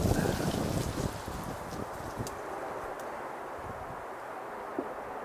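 Wind blows steadily outdoors in a backyard garden by a fence, a broad, continuous rushing that is loudest at the start and then settles to a constant roar, with a few faint ticks and knocks mixed in.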